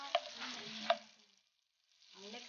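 Garlic sizzling in oil in a pan for tuna carbonara, a steady soft frying hiss with two sharp clinks of utensils early on, dropping to near silence before the sizzle returns quietly.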